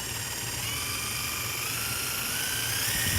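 An impact driver drives screws with its variable-speed trigger, giving a continuous high mechanical whine and buzz that rises slightly in pitch, heard alone at close range.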